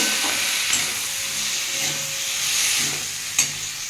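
Spices with turmeric and salt sizzle and fry in a pan for cauliflower stalk curry, a steady close hiss broken by a few soft stirring scrapes and one sharp clink near the end.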